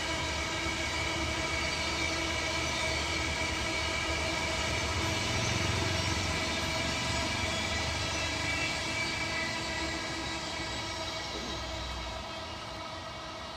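The Ranakpur Express, hauled by a WAP-7 electric locomotive, pulls into a station platform with a loud, steady rumble and humming drone that eases slightly toward the end.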